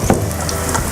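Tempe fries in a pan with a steady, close sizzle and soft crackles, heard alone and unbroken throughout.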